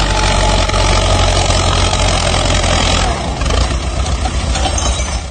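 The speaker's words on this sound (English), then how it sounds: "A tractor climbs a slight incline, fighting to keep its balance." A tractor's engine labors up a slight incline, a loud, steady, heavy drone that carries unbroken from start to finish with no voices.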